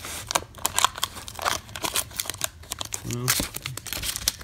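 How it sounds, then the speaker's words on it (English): Masking tape being peeled off a graphite-coated mold for casting lead shot, heard as close, rapid crackling and tearing rips with a brief spoken word partway through. "And then I'll pull this masking tape off,"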